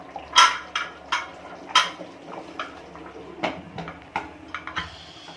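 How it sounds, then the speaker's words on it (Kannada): A pressure cooker lid is set in place over boiling cabbage rice bath: a few sharp metallic clanks and clatters up close, followed by quieter rattling and handling noises, with no talking. "ಇವಾಗ ಮುಚ್ಚಳ ಹಾಕಿದ್ದೀನಿ"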